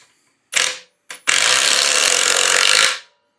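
Metabo impact driver driving a screw, loud and close: a short burst, a brief blip, then a sustained rapid hammering buzz for about one and a half seconds before it stops abruptly.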